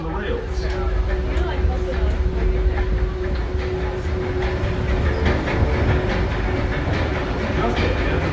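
The Disneyland Railroad excursion train, pulled by the C.K. Holliday steam locomotive, rolls along the rails with a constant loud rumble and rhythmic clatter, a steady whine in the background and a voice talking over it.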